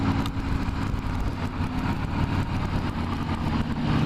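A 2016 Harley-Davidson Black Edition motorcycle engine runs steadily nearby with a deep, continuous low rumble and throbbing exhaust, no voices over it.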